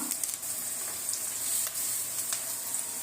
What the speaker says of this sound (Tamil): இப்போ அது கூடவே கொஞ்சம் கருவேப்பிலை போட்டுக்கலாம்